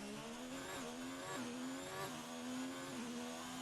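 An F1 car on a flying lap at the Monaco Grand Prix in the video game F1 2019, its engine a high, steady whine that rises and drops with each gear change, loud and close throughout.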